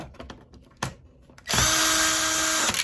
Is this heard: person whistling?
no